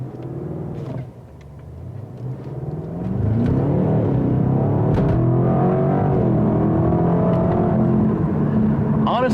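A 2020 Cadillac CT6 V Blackwing launches hard off the foot brake, its engine rumbling low before rising into a loud, sustained acceleration roar that climbs and holds close to the car, heard from inside with no talk.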